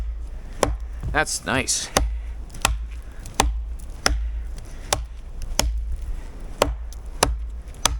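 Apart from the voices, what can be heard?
tracker knife chopping aspen wood branch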